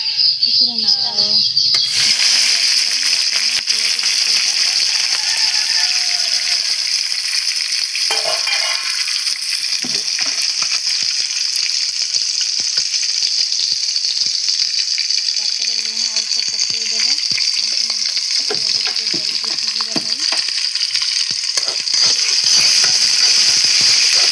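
Bay leaf and cinnamon fry in hot oil for mutton curry, a loud, continuous hiss and sizzle throughout with occasional stirring clinks, and no talk in the clip.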